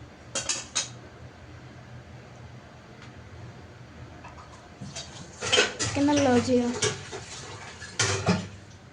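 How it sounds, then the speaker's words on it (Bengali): Pumpkin curry being served into a bowl, with clattering pot and spoon knocks in short bursts and scraping in between, close by, and someone talking partway through. "আমি এখন বাটিতে বেড়ে নিচ্ছি।"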